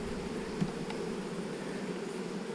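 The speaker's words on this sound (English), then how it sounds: "These bees are dying for food, guys." Honeybees hum steadily in an opened hive, a continuous low buzzing drone at close range that stays even and unbroken, with a faint knock or two near the start.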